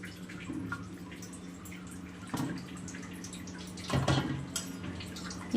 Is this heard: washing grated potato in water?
yes